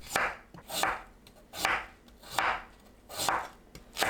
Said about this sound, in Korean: 무는 빚어 썰어줍니다.